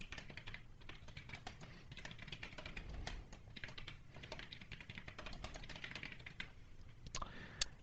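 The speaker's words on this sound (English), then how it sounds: "we're going to type in a few items we want to appear in the drop-down list box" Quiet, rapid keystrokes on a computer keyboard as list items are entered while programming, a steady stream of light clicks close by with no voices.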